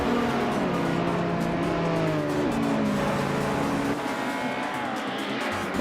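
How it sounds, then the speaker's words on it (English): A 2024 Audi A4 race car in a WTC-class racing video game drones loudly with a rising and falling engine whine, gear changes shifting the pitch, and a brief tire squeal, with no talk over it. "Justanef is driving a 24 Audi A4 in the WTC class."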